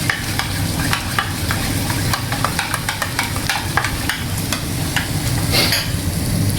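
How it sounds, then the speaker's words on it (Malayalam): Yogurt being stirred into a vegetable pulao masala in a hot pan, a continuous close sizzle broken by rapid, regular scraping strokes of a spoon throughout. "എന്നിട്ട് തൈര് നല്ലോണം മിക്സ് ചെയ്യുക"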